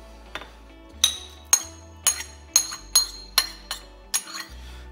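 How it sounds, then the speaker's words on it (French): Metal utensil clinking against a pot about eight times in a steady rhythm while blanquette de veau sauce is stirred and mushrooms are added, close and fairly light, with no talking. "On remue, on rajoute les champignons."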